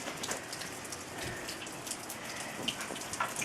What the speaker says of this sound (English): So, and it's pouring. It's pouring again.